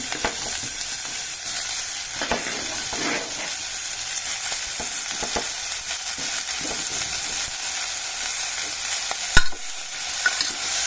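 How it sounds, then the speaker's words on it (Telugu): Chopped ivy gourd pieces stirred and fried in oil in a pan, a steady sizzle broken by scraping spatula strokes and one sharper clatter near the end, close and moderately loud with no talking. "మంచిగా కలుపుకొని మంచిగా మగ్గ తీయాలండి నూనెలో"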